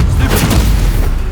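Incendio fire spell cast in Hogwarts Legacy on PS5, a dense booming blast with a crackling fiery burst that stays loud and steady through its short length, with no voices.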